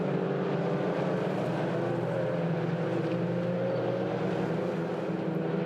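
Race cars power nose to tail out of a right-hand corner at Oulton Park circuit, a dense steady roar of several engines with rising harmonic tones, loud and continuous throughout without talk.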